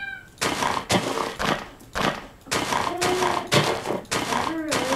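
Cats meow in the Minecraft video game, a series of short, loud repeated mews coming in quick bursts, with people talking over and between them.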